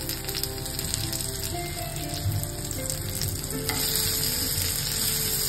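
Crabs fry in a pan over low heat with a steady, dense sizzle throughout, and small scraping and clattering sounds as the pieces are turned over.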